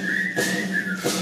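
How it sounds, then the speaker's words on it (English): A sustained whistled tune carries a clear, steady melodic line with a couple of brief breathy breaks, from a group of performers in an All Shook Up stage show. "Come on, everybody, and whistle a tune right now."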